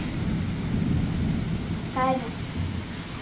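Heavy monsoon rain pours steadily with a low rumble of thunder rolling underneath, dense and close, while a voice briefly speaks midway through.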